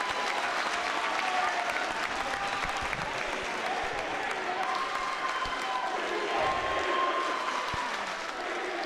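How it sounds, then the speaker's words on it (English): Crowd at a high school wrestling match applauding a pin: sustained dense clapping from many people in a gym, loud and steady throughout, with a faint voice underneath. "The crowd loves it."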